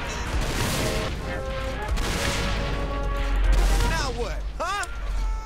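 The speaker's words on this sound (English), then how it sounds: "Did he just shoot into the sky?" Rapid bursts of gunfire in the video game Saints Row IV, loud dense volleys crackling continuously with whooshing effects layered over and a player's voice talking throughout.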